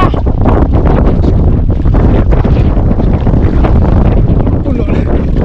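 Strong wind buffeting the microphone on a small fishing boat at sea, a loud steady roar of gusts and rushing air with water noise underneath, unbroken for the whole stretch.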